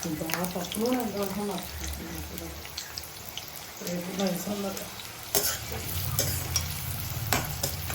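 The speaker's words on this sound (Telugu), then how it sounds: "ఇదేదో చక్కగా ఎర్రగా వేగాలండి అది వేగుతూ ఉంటుంది" Steady sizzling of goat spleen curry frying in a pan, with occasional stirring clatter, while a person talks intermittently over it.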